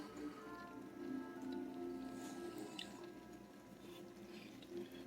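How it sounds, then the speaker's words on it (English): Thick chili sauce glugs and drips from a jar in soft, wet squishes, quiet and close, with a faint low hum underneath. "We're just gonna pour the whole jar in there."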